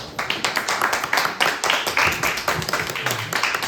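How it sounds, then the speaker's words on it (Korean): Audience at a high school Sunday church service clapping to welcome April birthday celebrants, a close, lively patter of distinct hand claps in quick uneven bursts, with a faint voice briefly underneath. "박수로 맞이하겠습니다."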